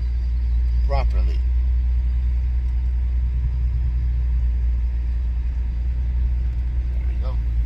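A car backs up while looking for another parking spot, its engine a low, steady, close rumble throughout, with a few faint chirps near the start and end and no talk over it.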